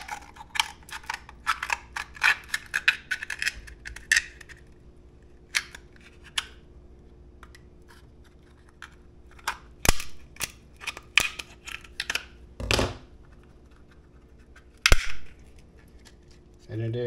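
Kitchen shears cut through a cooked lobster shell in bursts of sharp clicks, snips and cracks, some rapid and clustered, others isolated with quiet pauses between.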